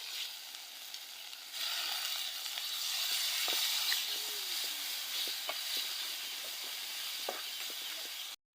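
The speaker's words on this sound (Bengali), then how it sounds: "এবার শুটকি মাছগুলো দিয়ে মশলার সাথে ভাজবো" Dried shutki fish fries with spices in hot oil in a pan, a steady sizzle swelling as the fish goes in, with occasional stirring scrapes and small pops throughout, close and moderately quiet.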